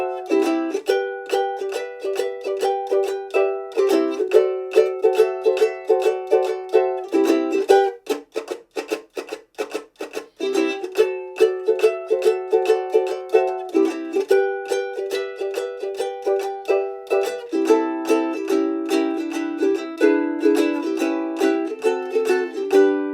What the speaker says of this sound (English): So the instrumental section with those extra chord inversions would sound something like this.